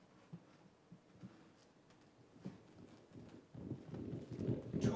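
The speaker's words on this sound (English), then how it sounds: "Two messengers on their fast horses, galloping on golden harned horses, golden harnessed with silver hooves." Galloping horses, their hooves beating in a quick, steady clip-clop that starts faint and distant, then swells louder and busier as the riders draw near.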